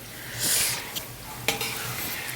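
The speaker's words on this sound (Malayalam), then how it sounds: "ഇനി ഇത് നന്നായിട്ട് ഈ എണ്ണയിൽ കിടന്നൊന്ന് വറവാവട്ടെ" Pickle ingredients frying in hot oil while being stirred, a steady sizzle broken by a couple of sharp spoon scrapes and knocks, close and fairly loud.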